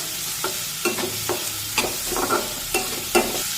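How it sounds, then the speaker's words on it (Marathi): Onion fries in a pan over medium heat with a steady sizzle, while a spatula stirs it in repeated scraping strokes, close and clear. "आता मध्यम आचेवर हा कांदा छान मऊ होईपर्यंत शिजून घेऊया"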